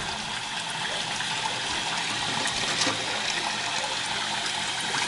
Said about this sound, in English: Now I'm gonna fill this up till the water is covering it.